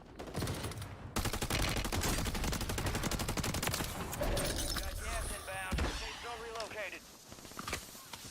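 Gunfire from players fighting in Call of Duty Warzone, with rapid bursts of automatic fire rattling almost nonstop, loud and close, then thinning into scattered shots with other game noise.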